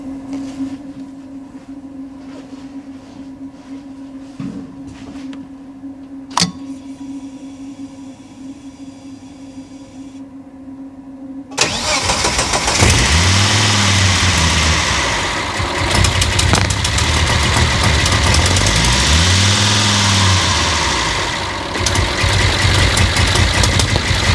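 A quiet background hum and a click give way to a Volvo 740 engine, swapped to a T5, cranking and catching, then idling loudly and roughly with occasional revs.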